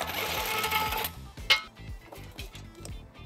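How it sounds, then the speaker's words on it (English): Bolts being removed from the bumper beam on a 2018 Toyota C-HR, a buzzing power tool whirring for about a second, then ratcheting clicks and metallic clanks at close range, no talking. "make sure you're supporting the beam when you remove the last bolt"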